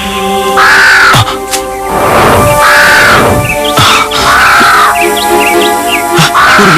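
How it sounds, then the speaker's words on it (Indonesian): A giant crow caws repeatedly in a forest, loud and close, harsh calls coming in a steady rhythm over a bright, tonal background. "burung gagak raksasa itu?"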